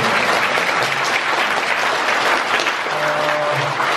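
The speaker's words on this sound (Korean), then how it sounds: "큰 박수 한번 부탁을." Audience applause at a Buddhist monk's book launch ceremony, a dense, steady wash of clapping from a large crowd that holds at an even level for the full four seconds, with faint murmurs beneath.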